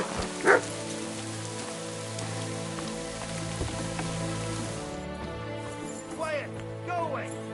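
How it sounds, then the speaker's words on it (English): Dog barking in Kingdom Come Deliverance 2, heard as a few short yips over steady game ambience and rain-like hiss, with brief talk in between. "Such a naughty dog."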